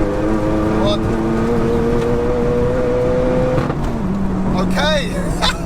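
A stage 4 Seat Leon Cupra accelerates hard on a 100-200 run, its engine note climbing steadily through a long gear, dipping at a shift, then rising again, loud and close inside the car.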